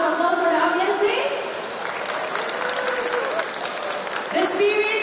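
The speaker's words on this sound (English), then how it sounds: "can I hear a big round of applause for the audience, please?" Applause from an audience at the SPARC Series 12 event in Malaysia, a broad, continuous wash of clapping from a sizeable crowd that swells at the start and end, with a voice over a loudspeaker running beneath it.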